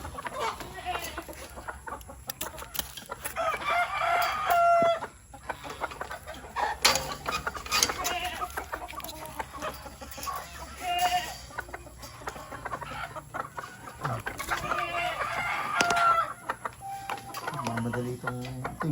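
Chickens cluck intermittently nearby on a farm while fed banana peels, with scattered squawks and rustling in a noisy outdoor setting.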